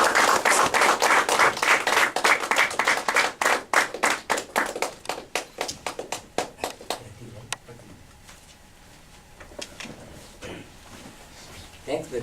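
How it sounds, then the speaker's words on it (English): Audience applause for a speaker at a Toastmasters installation ceremony: dense, fast clapping from many hands, thinning out after several seconds into a few scattered, fading claps. "Please put your hands together for Satyanarayana Raju."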